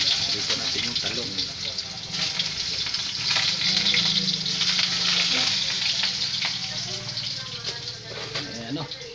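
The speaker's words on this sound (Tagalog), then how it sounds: "Prito natin yung talong." Eggplant frying in a pan, a continuous close sizzle with some stirring and clattering, alongside faint background sounds.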